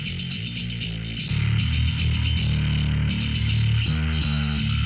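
A bass guitar plays a low, steady line with reverb added, sounding fuller and more sustained, loud and alone without any talking.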